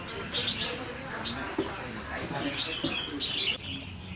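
A family of young birds chirping outdoors, with quick high tweets in short bursts repeating across the clip over a steady background hiss; someone talks faintly throughout.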